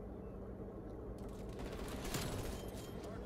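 PPSh submachine gun firing in Call of Duty Vanguard, a rapid rattling burst that kicks in partway through over steady game background noise, with no talk.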